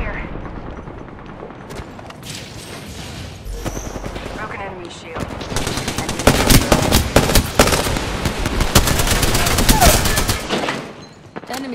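Gunfire in Apex Legends, long stretches of rapid automatic bursts and repeated loud shots building into a dense barrage, with a player's voice talking over the fighting.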